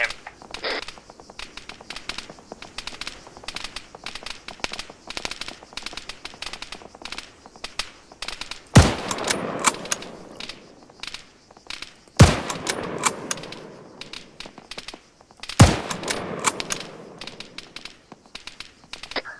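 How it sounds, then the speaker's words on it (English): Rapid gunfire in the military game ArmA 3 in a hilltop firefight: a steady stream of distant crackling shots, broken by three sharp, louder nearby reports spaced a few seconds apart, with faint radio chatter underneath. "Rapid fire on him."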